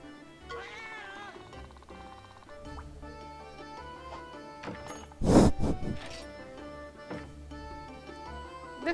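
A cat meows in a video game: a few drawn-out meows rise and fall over soft background music, followed by a brief loud crash midway, with no one talking.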